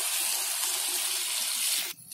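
Water poured from a cup into a pan of frying potatoes to start a gravy gives a steady, loud rushing pour for about two seconds that stops abruptly, with no voices.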